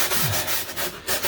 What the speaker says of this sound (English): So I'll keep on sanding